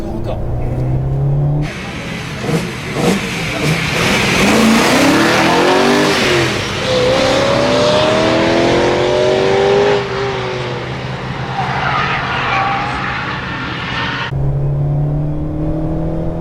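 A high-revving Alpine sports car engine climbs through the gears, pitch rising repeatedly as it accelerates hard, loud and close.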